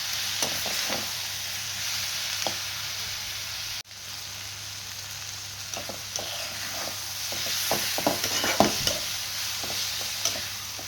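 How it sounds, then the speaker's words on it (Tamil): Fried eggplant and onion being sautéed in a pan for an eggplant masala, a steady sizzle with repeated scraping stirs of a spatula, louder and busier toward the end, no voices. "நல்லா வதக்குங்க வெங்காயம் இது நல்லா வதங்குங்க"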